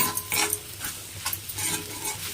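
Food sautéed and stirred in a pan over a high flame, a steady sizzle with brief scraping stir strokes recurring every second or so, close and alone.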